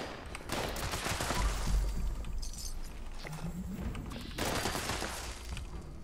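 Assault rifle gunfire in Fallout 76, an anti-armor explosive assault rifle, fired in loud, dense bursts with impacts, briefly easing before another volley near the end.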